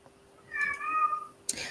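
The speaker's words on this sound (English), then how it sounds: "That's the cat. She's upset." A house cat gives one drawn-out, upset meow lasting about a second, fairly close and clear against a quiet room, followed by a brief sharp knock.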